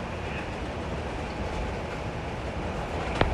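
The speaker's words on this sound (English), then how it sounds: "let's go and ride the train" Train ride in the survival video game LifeAfter, a steady rumbling rolling noise throughout with a brief sharp metallic click near the end.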